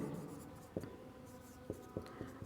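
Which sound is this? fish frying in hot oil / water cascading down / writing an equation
writing an equation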